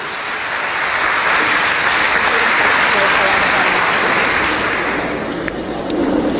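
A revival congregation in Aracaju applauds after a scripture reading, broad continuous clapping swelling in the middle and easing near the end, with voices faintly mixed in.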